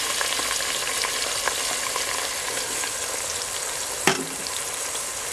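A thick mixture of winter melon, flour and sugar is stirred in a pan, giving a steady close scraping and soft sizzle, with one sharper knock of the utensil near the end.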